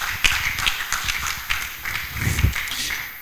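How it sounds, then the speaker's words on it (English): Audience applause at a medical laboratory science induction ceremony, a steady ripple of many hands clapping in a hall, with a few louder claps standing out near the end. "A round of applause for the Deputy Registrar and the Secretary of the College, Dr. Ikelua Moody."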